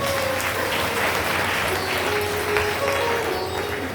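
An audience at a Hindu religious discourse on the Bhagavata bursts into dense, sustained applause, a loud continuous wash of many hands with no pauses, a low hum underneath.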